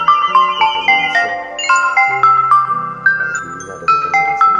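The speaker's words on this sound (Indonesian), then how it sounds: "Ini ada telepon masuk." A melodic phone ringtone plays loud and close for an incoming call, a bright repeating sequence of chiming synth notes over a sustained lower tone, with no talking.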